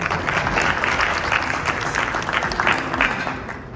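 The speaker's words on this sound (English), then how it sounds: "Tony Corella, big round of applause" A dinner audience at a mayoral campaign event applauds a speaker, a thick, continuous clapping that swells slightly and tapers near the end.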